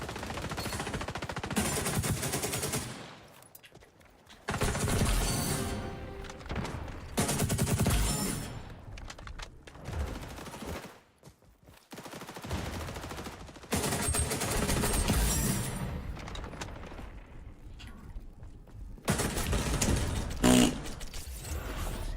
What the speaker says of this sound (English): these random turrets could definitely be annoying for sure